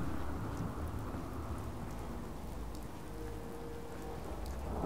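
Steady rain in Fallout 4 pours down in a dense, even hiss, with scattered drops pattering throughout and no voices.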